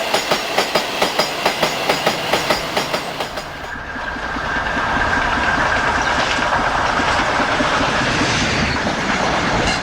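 A BR Class 56 diesel freight locomotive model on an OO gauge railway layout rolls past close by, steady rhythmic wheel clicks over rail joints giving way to a continuous loud rumbling hum.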